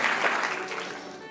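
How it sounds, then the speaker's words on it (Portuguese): A church congregation claps together in a brief, dense burst of applause that starts full and gradually thins out, with murmuring voices underneath. "Então dá uma salva de palmas a Jesus."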